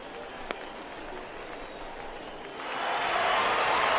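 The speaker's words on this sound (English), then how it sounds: "all those fans cheering" Crowd noise from a baseball video game, a faint murmur that swells into louder cheering and applause over the last second and a half, with a brief sharp knock early on.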